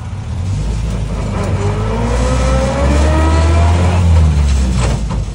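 A Land Rover Series IIA engine drones loud and close while driving in fourth gear high range, a steady low rumble with rising whining gear tones and slight swells in engine effort.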